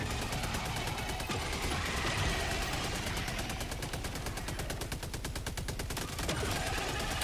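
A machine gun turret in Helldivers 2 fires rapid, unbroken automatic bursts, a dense rattling stream of shots that carries on for several seconds amid other gunfire.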